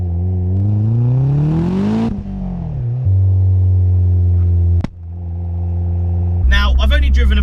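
A turbocharged Renault Clio 172 with about 240 bhp, its engine revving up in a rising drone, dropping back, then holding steady tones, with a sharp click and a burst of turbo whoosh at the end, loud and close.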